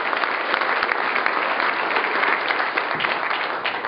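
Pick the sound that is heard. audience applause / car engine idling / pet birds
audience applause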